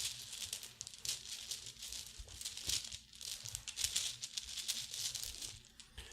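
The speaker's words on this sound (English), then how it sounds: "our player is going to draw 5 dice from the bag" A hand rummages in a cloth dice bag for a Sagrada board game, drawing out dice with soft crinkling, rustling fabric and faint clicks, close and continuous.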